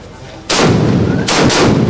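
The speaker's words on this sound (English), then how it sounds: "Several cannon shots fired to signal the commencement of activities" Two loud, booming ceremonial cannon blasts go off in quick succession in Igbide Kingdom, Niger Delta, each with a long rumbling echo.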